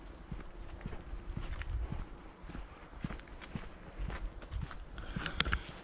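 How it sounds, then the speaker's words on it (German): Horses walking in a paddock along a hiking trail, with steady hoof clip-clops close by over a constant outdoor background. "Hier vorne kommt dann so eine Kuppel mit Pferden."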